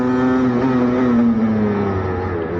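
A 125cc motorcycle accelerating on a main road, its engine a loud, close, buzzing drone whose pitch holds then slowly falls as it settles between gear changes, with no talk.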